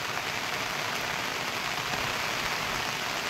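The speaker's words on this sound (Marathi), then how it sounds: "पाऊस काय आता थांबणार नाही, पावसाची गरजच आहे आता." Steady rain falls on a farm in the Konkan region near Khed, a dense, even hiss of drops on surfaces that continues without a break and with no voices over it.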